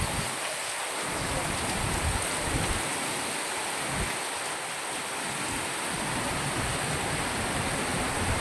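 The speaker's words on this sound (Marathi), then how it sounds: "बघा मुसळधार पाऊस।" Heavy monsoon rain pours onto a flooded road in Chikhli, Pune, a dense, continuous roaring hiss that stays loud and steady throughout.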